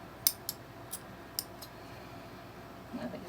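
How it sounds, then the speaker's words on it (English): Scissors snip through fabric in a few sharp, quiet cuts, spaced irregularly, with a soft rustle near the end. "I think it's time to sharpen my scissors."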